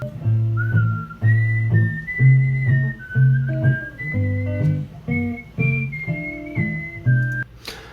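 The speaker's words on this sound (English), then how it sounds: "both his freeform and his whistling are improvised" A singer whistles an improvised, freeform melody in clear, sustained phrases, heard alone over a steady low instrumental accompaniment of repeating bass chords.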